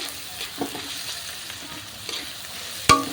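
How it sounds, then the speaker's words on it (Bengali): Chopped green chillies and onions hiss in oil as they are stir-fried, a low steady sizzle broken by soft spatula scrapes and a sharp clatter of the utensil near the end, close up and with no voices. "লঙ্কাটাও ভালোভাবে তেলেতে একটু হালকা ফ্রাই হয়ে যাবে তখনই পেঁয়াজটাকে ঠিক এইভাবে নাড়াচাড়া করে নিতে হবে"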